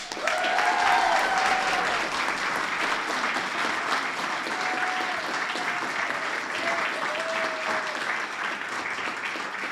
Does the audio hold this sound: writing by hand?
no